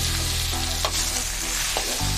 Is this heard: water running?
no